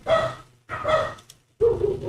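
A dog barks three times in a row, loud and close, each bark short and spaced by brief pauses.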